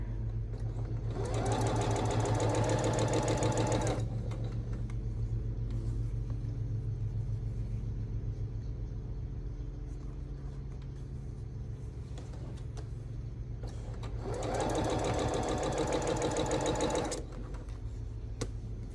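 A sewing machine stitches quilt fabric in two steady runs of a few seconds each, close and clear over a constant low room hum, with quiet handling sounds between the runs.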